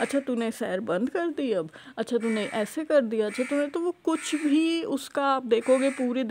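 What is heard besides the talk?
No everyday noises stand out.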